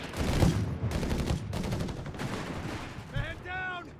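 Automatic gunfire crackles through a Company of Heroes 3 battle, an American machine gun firing in dense rattling bursts among other battlefield noise, with a voice briefly calling out near the end.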